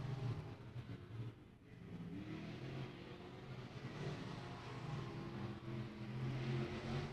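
Race cars on the final lap of a heat race at Beckley Motor Speedway's oval, a steady distant engine drone that swells and fades slightly as the field runs down the back straightaway.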